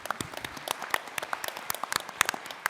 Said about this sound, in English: Give a big round of applause to this panel.